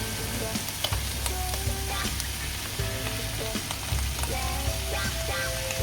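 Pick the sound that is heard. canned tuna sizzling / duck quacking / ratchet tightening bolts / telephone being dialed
canned tuna sizzling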